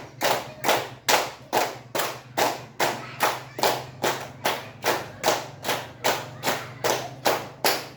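A group claps in unison with a steady, even beat, about two claps per second, sharp and close, continuing throughout with no talking.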